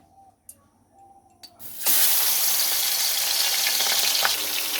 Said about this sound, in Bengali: এবার আমার কড়াই তেতে গেছে। এবার আমি দিয়ে দেব মাছ।